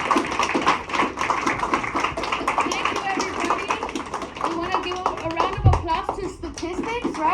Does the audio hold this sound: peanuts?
no